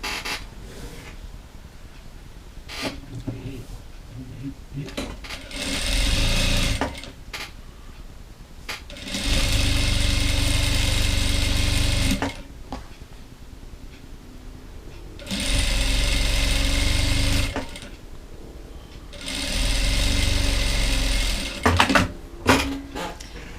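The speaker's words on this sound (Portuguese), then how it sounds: "vou fazer uma costura pé de máquina" A sewing machine stitches the band of a dish towel in four steady bursts of loud, close whirring, separated by quieter gaps of fabric handling.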